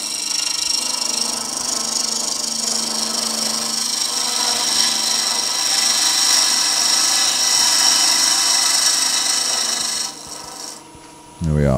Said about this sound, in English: I'm just going to side cut again with this one.